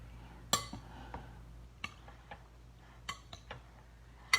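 A spoon stirs ceviche in a bowl, making scattered light clinks and taps close by with quiet gaps between them.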